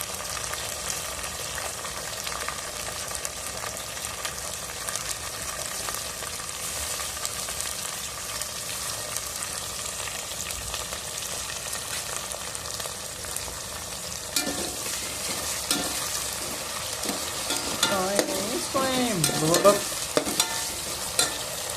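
Tomatoes fry and get stirred in a pan for a bottle gourd curry, a steady close sizzle running throughout, with louder scraping stirs toward the end and no voices.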